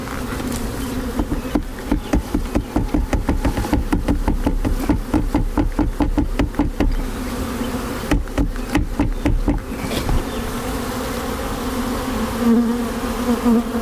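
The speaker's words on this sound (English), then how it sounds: "We do have some forager bees in here" Dense buzzing of many honeybees close by as a nucleus colony is installed into a hive, mixed with rapid rattling taps and knocks in bursts, continuing steadily without speech.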